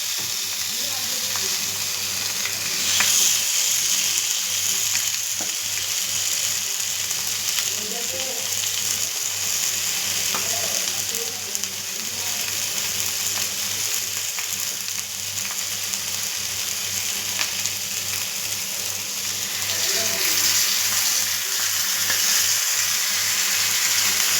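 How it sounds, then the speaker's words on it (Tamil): Small seer fish frying in a hot pan, with a continuous loud sizzle and crackle throughout and faint stirring noises. "சட்டி சூடாகிடுச்சு. இப்போது மீனை போட்டுக்கலாம்."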